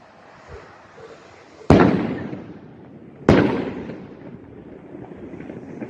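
Two loud, close bursts from a 68 gram double impact firework rocket, each a sharp crack with a rumbling tail, about a second and a half apart, at night over steady background noise.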